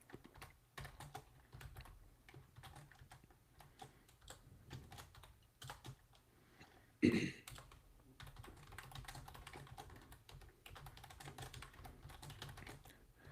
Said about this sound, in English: Just me and you hammering away on our keyboards